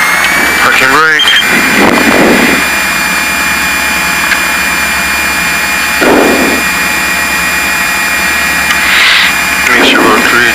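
A Piper Seneca twin-engine aircraft holds a loud, steady engine drone with a constant pitch during its run-up, heard from the cockpit with occasional voices over the noise.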